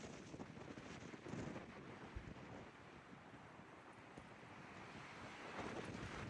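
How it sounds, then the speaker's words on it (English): Strong wind buffets the microphone at a campsite, a continuous rushing roar with gusts that rise and fall, faint overall and with no speech. "I don't think the wind is gonna let up anytime soon"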